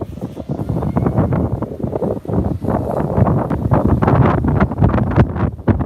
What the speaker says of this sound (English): Oh, that is a bit windy, isn't it?